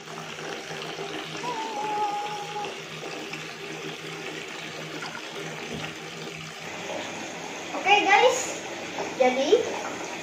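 Water runs steadily from a tap into a hotel bathtub in a high-rise Westin, a close, continuous wash with brief louder splashes near the end, while a voice speaks over it.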